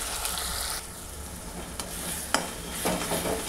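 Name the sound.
coconut, ginger, garlic and onion paste frying in oil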